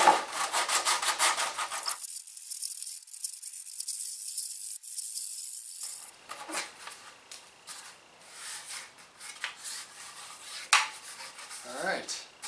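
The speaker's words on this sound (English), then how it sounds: "A little sandpaper around the edge." Sandpaper rubbed around the edge of a wooden piece for an LED dartboard light, a steady scratchy rasping up close that stops for a few seconds before resuming in uneven strokes.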